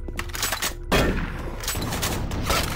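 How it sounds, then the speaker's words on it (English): A chain gun fires in Doom 3, a rapid, sustained rattle of shots with heavy low thuds, loud and continuous with brief sharper bursts layered in. "he has a chain gun"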